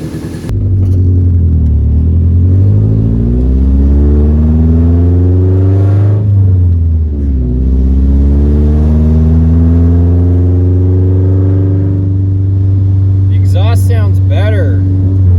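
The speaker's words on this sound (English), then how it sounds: "It has like a better note. I think we fixed this exhaust leak." A Nissan 240 exhaust, just repaired for a leak, rumbles with a deep, steady drone, briefly revving up and settling twice before holding a smooth idle; a voice chirps faintly near the end.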